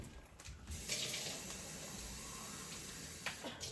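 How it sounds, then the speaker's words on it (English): Water pours steadily into a pot from close by, a continuous splashing stream that lasts the whole moment. "I'm gonna add a half a can of water."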